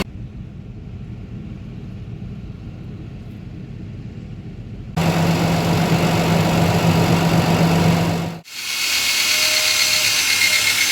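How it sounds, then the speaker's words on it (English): Farm tractors idle steadily at a dairy operation before shutdown, a continuous near engine drone that steps up louder about halfway through, with a brief dip before the idle resumes. "we're just letting the tractors cool down a little bit before we shut them off"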